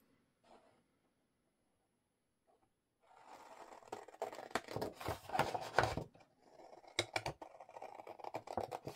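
Paper pieces being cut out with scissors for a handmade junk journal, a quiet start giving way to a run of close, crisp snipping and rustling paper handling with sharp bursts, no talking.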